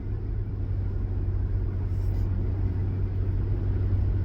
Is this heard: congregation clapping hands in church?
no